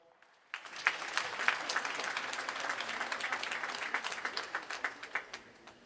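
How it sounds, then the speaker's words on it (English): An audience at an African Development Bank 60th anniversary heads-of-state meeting breaks into sustained applause, a dense steady patter of many hands clapping that starts abruptly and gradually thins toward the end. "I think that deserves more applause"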